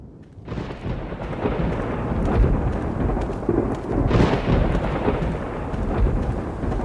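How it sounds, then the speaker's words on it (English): A thunder and lightning storm rumbles in the video game Astoaria, with a loud continuous roll of thunder and two heavier cracks, layered over steady rain. "it's raining now. Or at least there's thunder and lightning."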